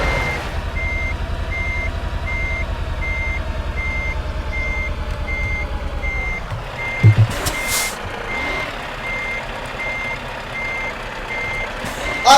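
A truck in the Euro Truck Simulator 2 video game gives a steady series of loud reversing beeps over a low engine rumble, then the beeping stops and the engine drones on with a couple of brief clunks.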